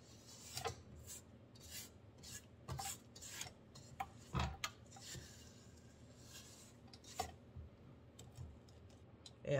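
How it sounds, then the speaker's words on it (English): Spatula scraping cake batter off the sides of a mixing bowl and the mixer beaters, making soft, irregular rasping strokes and light taps, close and fairly quiet with no talking. "I'm scraping down the top side of the beaters because I want to get all the batter"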